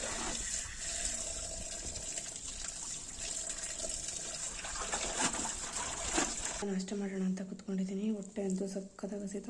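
Water gushes steadily from an outdoor tank tap where a mop is washed on a stone slab with soap. The rushing flow is loud and continuous for several seconds, then gives way to a voice talking.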